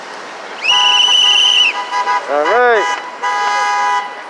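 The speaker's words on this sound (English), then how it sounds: "Gotta honk your horn." A car horn sounds in a long, loud toot and then again after a pause, close by, while a voice speaks briefly between the honks.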